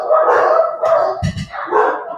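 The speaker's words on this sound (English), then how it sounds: "Sorry about my dogs." Dogs bark in short repeated bursts close by a home during a remote interview, loud and yappy, with a FedEx truck outside.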